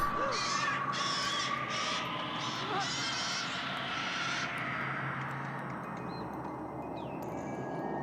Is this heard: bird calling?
yes